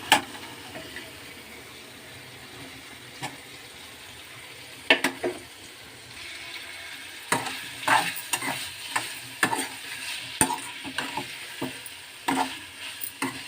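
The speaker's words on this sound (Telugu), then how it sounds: "ఇప్పుడు దీనిలో కాలీఫ్లవర్ వేసేసుకుందాం" Cauliflower is stirred into tomatoes cooking in a pan, with a low steady sizzle and scattered scraping and clinking of a spoon against the pan. The stirring grows busier in the second half, and no one speaks.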